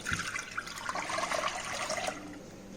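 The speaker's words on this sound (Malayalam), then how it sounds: "ഇനി നമുക്ക് നമ്മുടെ മിക്സ്ചർ ഈ മസ്ലിൻ ക്ലോത്തിന്റെ മേളിലോട്ട് ഒഴിച്ചു കൊടുക്കാം." Rice cake batter for kinnathappam, a steamed rice cake, pours onto a muslin cloth with a steady liquid splash and trickle, close and fairly quiet, lasting a few seconds with no speech.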